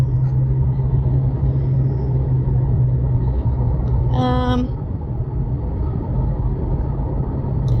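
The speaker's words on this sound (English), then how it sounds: "I'm on the main road, so I want to concentrate on driving more." From inside a car on a main road, a steady loud low engine and road rumble fills the cabin throughout, with a brief tonal chime or horn-like sound partway through and no talking.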